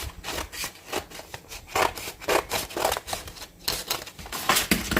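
Scissors cut through fabric for a nightie in a run of quick rasping snips, close and moderately loud, with a steady uneven rhythm and no talking.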